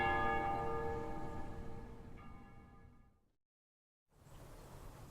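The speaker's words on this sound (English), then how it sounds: "They ring the bells here at dusk to honor the liberation of the capital." Bells rung at dusk to honor the liberation of a capital, a sustained ringing peal with long resonant overtones that slowly decays into silence before faint ambience returns.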